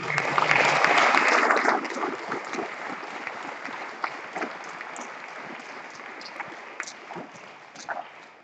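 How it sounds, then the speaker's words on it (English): Applause from a small debate audience at a July morning session, louder for the first two seconds then thinning to scattered claps and room noise. "let's give a huge and applause to all these debaters."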